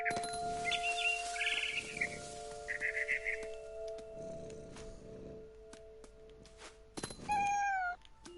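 A cat meows in the video game What Remains of Edith Finch, with one loud, drawn-out meow near the end that follows scattered bird chirps over a soft ambient background.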